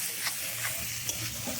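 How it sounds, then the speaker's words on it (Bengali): Whole spices for a tempering frying in hot oil for Gobindobhog rice khichuri give a steady bright sizzle, broken by a few crisp pops and crackles, close up and with no talk. "মশলাটা ভাজা ভাজা হয়ে গেছে,"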